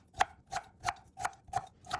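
Knife chopping food on a cutting board in a home kitchen, six evenly spaced crisp knocks of the blade against the board, close and clear, with no talk.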